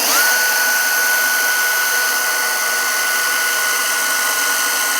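A loud, high-pitched power drill whines steadily after a quick spin-up, drilling a hole in a truck during an Alu-Cab ModCAP install, running continuously at full speed with no voices.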